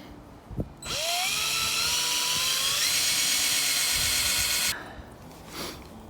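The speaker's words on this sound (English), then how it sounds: "So let's go ahead and drill this hole." A power drill whines up loudly for about four seconds as it bores into a maple tree trunk, then winds down, with faint handling noise before and after.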